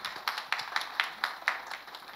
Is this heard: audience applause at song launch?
yes